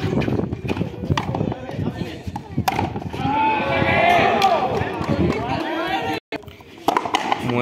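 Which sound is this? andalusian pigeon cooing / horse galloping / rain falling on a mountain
horse galloping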